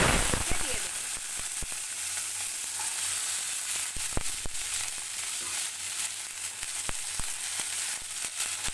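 Long yard beans fry in hot mustard oil with a steady, loud sizzle and crackle, sharp pops and clicks scattered throughout as they hit the pan.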